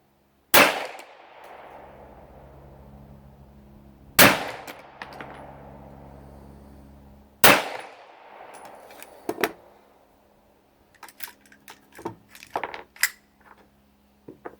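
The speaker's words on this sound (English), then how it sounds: "let's take like 3 shots" Three loud, sharp gunshots from a Laugo Arms Alien pistol ring out a few seconds apart, each decaying with a ringing echo, followed by scattered lighter clicks and clatter.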